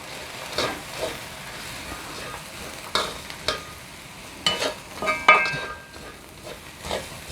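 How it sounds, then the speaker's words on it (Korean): Seasoning with soy sauce being stirred quickly in a pan for a Korean side dish, bringing brisk spoon scrapes and clinks over a low hiss and sizzle, close up, with no talk. "양념이 한 군데에 뭉치지 않게 부지런히 저어줘야 돼요"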